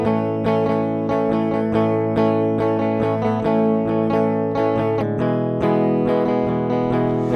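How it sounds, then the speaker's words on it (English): Raw, unprocessed electric guitar plugged straight in, with no amp, playing a steady run of chords and notes for several seconds, clean and close with no voices. "So it's a raw, unprocessed signal, like it was plugged straight into my desk from his guitar."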